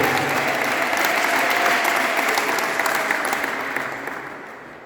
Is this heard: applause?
yes